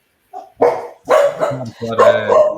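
Dogs bark in short, loud bursts, several in a row, close by, with a brief whimpering yip at the start.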